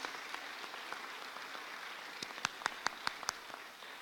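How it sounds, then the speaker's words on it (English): An indoor audience at a bill-signing event with the governor gives a round of applause, with a soft wash of clapping and a few sharp, distinct nearby claps standing out near the end. "give everybody a round of applause"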